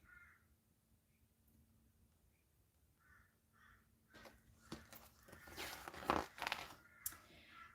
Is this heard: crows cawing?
yes